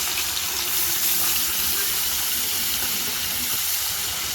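Fish being washed under running water, a steady close rushing hiss of flowing water from start to finish with no talk.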